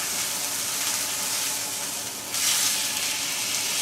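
Food frying in a pan after being flipped, a bright continuous sizzle that swells louder midway as the fresh side hits the hot surface.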